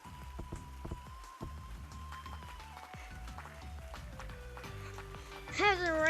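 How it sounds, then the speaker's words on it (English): Rain falls steadily in the background, with scattered drop impacts under a layer of continuous patter. Music plays throughout, and a high, warbling tone rises near the end. "Oh yeah, it's raining."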